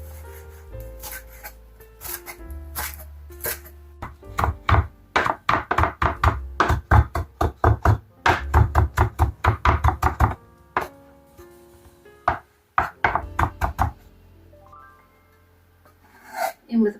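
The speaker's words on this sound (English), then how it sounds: "it's time to finely chop the parsley" Knife chopping parsley on a cutting board: rapid bursts of close, crisp knocks in an uneven rhythm with brief pauses, some faint background tones between strokes.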